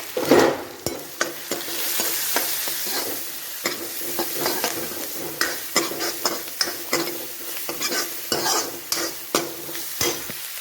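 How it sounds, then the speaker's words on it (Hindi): Cumin, ajwain, long-sliced onions and chilies frying for dahi tadka, a loud close sizzle under repeated sharp scraping clicks of a spoon stirring in the pan, with no talk. "थोड़ा या जीरा और लंबे कटे हुए प्याज मिर्च चंगी तरह मिक्स करेंगे"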